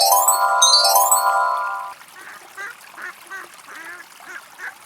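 Cartoon ducks quack: a bright musical chime-like jingle opens, then a run of short, nasal quacks follows in uneven bursts, clear and close against a quiet background.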